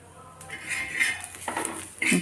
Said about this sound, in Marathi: मी बारीक गॅसवरच आपल्याला हे फिरून घ्यायचं आहे मसाले छान भाजून घ्यायचे आहे